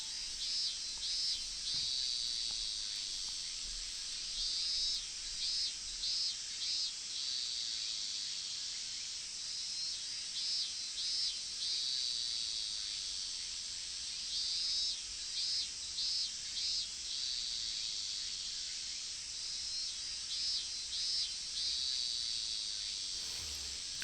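Cicadas buzz through the Higurashi game ambience in repeated pulsing bursts, a rhythmic high-pitched chirring that returns in clusters every few seconds over a constant insect drone, with no voices present.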